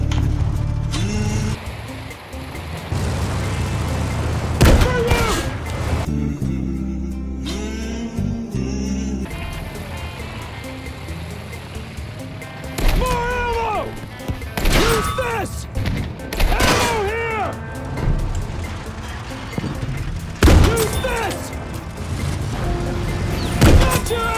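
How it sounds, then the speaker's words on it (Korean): Tank cannon blasts and gunfire in the Battlefield V video game, with several heavy booming shots and bursts of firing spread across the scene, loud and close, mixed with voices shouting in-game lines. "해당 버그는 탱크 대포를 쏠 때마다 애니메이션 기술 이름 외치기 마냥 대사를 외치는 버그인데요"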